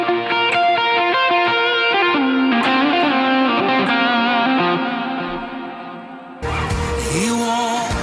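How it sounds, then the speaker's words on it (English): Electric guitar with a swell preset drenched in heavy reverb and effects, sustained washed-out chords ringing loud and continuous, then a fresh attack near the end with no talking. "Right now I'm on the swell snapshot. That's why there's a ton of it, a ton of reverb."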